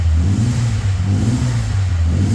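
A Ford Escort XR3i engine, one owner and started after 20 years off the road on 20-year-old petrol, revving loudly and steadily at close range with a low, constant hum.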